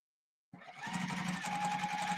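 A sewing machine top stitches a seam on a fabric bucket hat, running steadily after a short start, with a close, even mechanical whir and hum throughout.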